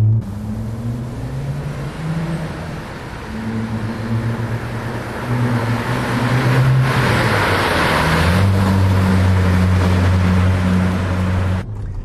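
Twin-turbo 2.7-litre V6 of an Audi S4 B5 running steadily and loud and close, its low rumble rising and falling through the revs with a brighter surge midway.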